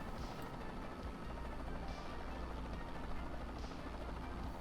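A Bell 206 helicopter hovers, heard from inside the cabin as a steady low rotor and engine drone with a rhythmic thump that stays constant and fairly quiet throughout.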